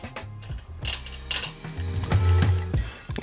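A new nut fitted onto the cleaned torque tube yoke of an Opel Manta A, giving a few close metallic clinks and a ratcheting, rattling turn of metal parts, with no voices.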